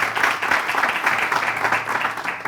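A live French animation event audience claps for a contestant crowned princess. The applause is steady and moderately distant, with a thin murmur of voices beneath it.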